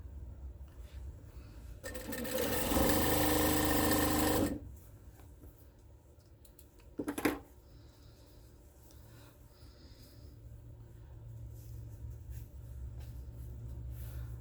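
A sewing machine stitches quilt fabric pieces in one loud, steady burst of about two and a half seconds, then stops, leaving quiet room tone and a brief sharp clack.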